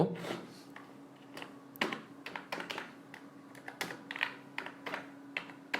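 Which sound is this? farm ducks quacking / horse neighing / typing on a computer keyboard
typing on a computer keyboard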